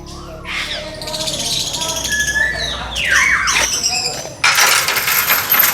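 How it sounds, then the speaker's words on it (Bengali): Parrots in an aviary cage at Gazipur Safari Park give sharp squawks and chirps with wing flutters, close and fairly loud, while people talk nearby. "এখন আমরা ম্যাকাও পাখির খাঁচা থেকে ঢুকবো হচ্ছে টিয়া পাখির খাঁচার দিকে"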